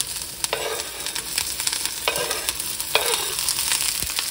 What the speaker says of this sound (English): I have some olive oil warmed up in this pan. I'm going to add my jalapeno and habanero to it.